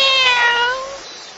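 A soaking-wet kitten rescued from a box gives one high, drawn-out meow that slides down in pitch and fades, close and clear with no other sounds around it.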